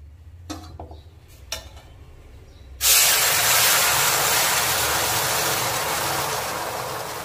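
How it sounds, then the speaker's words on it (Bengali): Hot water is poured onto mung dal frying in a pan, setting off a loud, sustained steam hiss that slowly fades, after a few light clinks of utensils. "তো ডালে আমি গরম জল দিলাম।"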